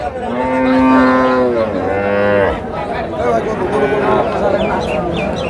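A Friesian cow at the Oronkola cattle market in Pabna gives a long, loud, close moo followed by a shorter one, with crowd chatter and talk continuing afterward.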